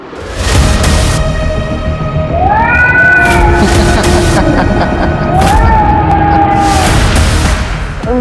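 A loud, drawn-out cat meow rises and falls twice over a busy, noisy background, with sharp bangs at the start and end.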